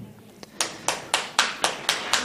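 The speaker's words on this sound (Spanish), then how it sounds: "Dale ese aplauso al Señor" A church congregation at a Sunday morning service claps in a steady, even rhythm, roughly seven crisp claps about a quarter second apart, with a faint murmur under them.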